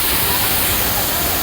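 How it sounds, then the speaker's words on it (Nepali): Baudeshor (Jhor) waterfall roars as a dense, constant rush of falling water, loud and unbroken, close by on a crowded day. "हामी चाहिँ अहिले बौडेश्वर झरनामा आएको छौँ। झरना चाहिँ एकदम बवाल छ है।"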